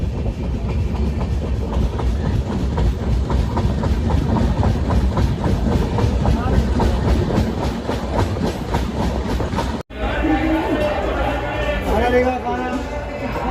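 Passenger train on the route from Hazur Sahib to Gwalior, running on rails through Maharashtra near Bhusawal: a loud, steady clickety-clack of wheels over track joints with a constant rumbling drone and a brief break near the end.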